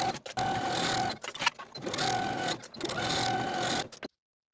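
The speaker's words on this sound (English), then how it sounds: "Sew each side seam from underarm seam to the hem with a 3/8 inch seam allowance" A sewing machine stitches the side seam of a bias-bound open-front jacket, running in three steady bursts of rapid mechanical whirring separated by short pauses, close and clear with no talking.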